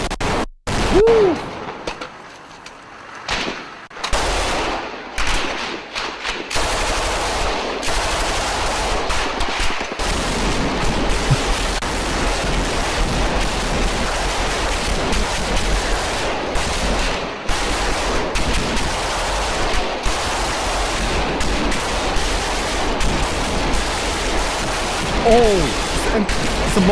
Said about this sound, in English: Dude, that's the Mark 19 grenade launcher.